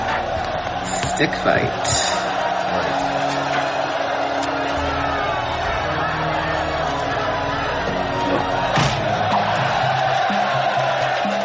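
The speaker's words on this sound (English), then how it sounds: "there's people waving money around, cheering" A crowd roars and cheers around a stick fight in the film Rambo III, a dense, continuous wall of noise with scattered shouts, while a voice speaks briefly over it.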